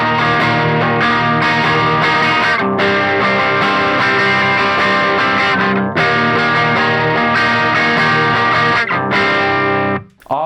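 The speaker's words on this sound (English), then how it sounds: "you're starting with this one, which is basically like a big monster mutant power chord" Heavily distorted electric guitar strumming a big, dissonant power chord from a song, with sustained, chorus-tinged ringing strums and brief muted gaps, loud with no talk.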